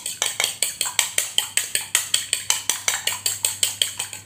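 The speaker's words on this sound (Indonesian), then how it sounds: "Telurnya kita kocok. Telur kita kocok 1 telur ya." An egg whisked in a bowl: a steady, rapid series of about twenty sharp clicks of the utensil against the bowl, close and evenly paced, with no talking.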